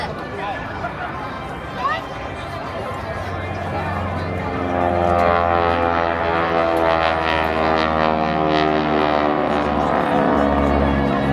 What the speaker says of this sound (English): I'm sure a lot of people from Blackpool are familiar with this aircraft because it's actually based up here at High G Jets